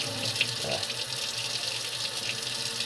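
A vacuum cleaner's foam filter is rinsed under a running tap, with steady water splashing into a sink, close and continuous for a few seconds.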